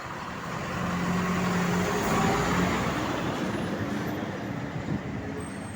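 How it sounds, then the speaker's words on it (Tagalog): Dense, steady street traffic in Manila: a continuous rumble of engines from cars, buses and trucks, swelling slightly and holding loud throughout with no talk over it. "Traffic po rito ngayon mga idol"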